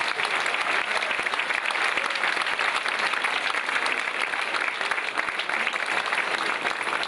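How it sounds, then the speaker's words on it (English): Standing audience applause at an annual banquet, dense continuous clapping from a large crowd in a hall, loud and even for the whole stretch. "Please give these individuals a round of applause."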